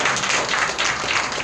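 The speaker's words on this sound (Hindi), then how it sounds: "ताली बजाइए प्रभु के लिए।" A church congregation applauding, a dense burst of many hands clapping evenly for a second or so, moderately loud with no voices.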